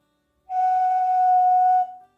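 A handmade clay whistle gives a single clear, steady tone about one and a half seconds long, loud and close, starting sharply and trailing off briefly at the end.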